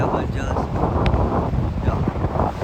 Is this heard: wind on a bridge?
yes